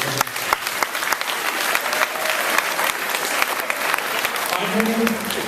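A school audience of parents and grandparents at a junior high talent show claps loudly for faculty and staff, a thick, even wash of applause with a few scattered voices mixed in near the end.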